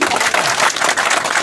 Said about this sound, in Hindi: सभी लोग ताली बजा के स्वागत करेंगे